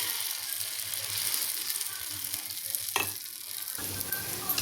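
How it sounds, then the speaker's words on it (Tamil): Kara paniyaram batter frying in an oiled 12-hole paniyaram pan gives a steady close sizzle and crackle, with a brief louder burst as more batter goes in. "பாருங்கள், கார பணியாரம் ஊற்றிருக்கோம்."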